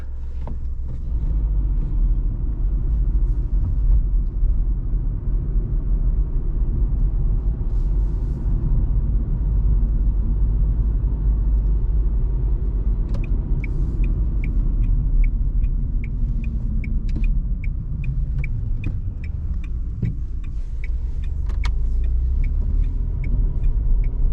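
A 2023 Dacia Sandero Stepway Expression with a TCe engine drives at night, heard from inside the cabin as a steady, loud low road rumble; a regular light ticking, like a turn signal, joins later.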